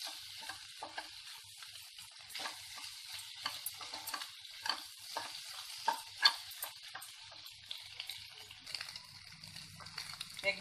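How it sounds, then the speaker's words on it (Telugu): Eggs and chopped onions frying in a pan over a medium flame, giving a steady soft sizzle broken by repeated scraping stir strokes close by. No one speaks. "ఎగ్ని మీడియం ఫ్లేమ్లో బాగా ఫ్రై చేసేసుకోవాలండి"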